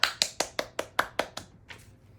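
A handful of slow, evenly spaced claps, about eight crisp strikes over two seconds, fading out at the end, in a French children's cartoon scene applauding Mr. Rude.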